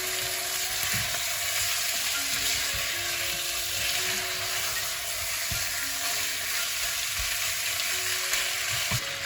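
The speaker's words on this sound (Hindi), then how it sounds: "तो अब प्याज के साथ चिकन को हम पकाएंगे, तकरीबन 5 मिनट के लिए भुनेंगे हम चिकन को प्याज के साथ" Chicken pieces frying with onions in a pan for korma, a constant loud sizzle with occasional scraping and stirring clicks, close by and steady, with no voices.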